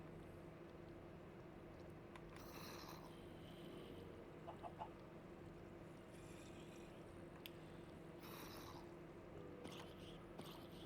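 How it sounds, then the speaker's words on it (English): A chicken on a chicken jockey in the Minecraft video game gives a few faint, short clucks, spaced out over a steady low hum, heard alone without talking. "Chicken jockey."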